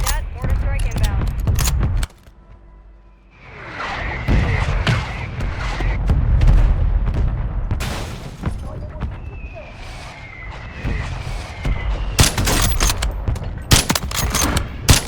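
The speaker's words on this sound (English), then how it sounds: "Mortar strike inbound." Mortar strike explosions and gunfire in a shooter video game, with loud bursts of automatic fire at the start and end, booming impacts and whistling shells in between, and a voice speaking under the combat.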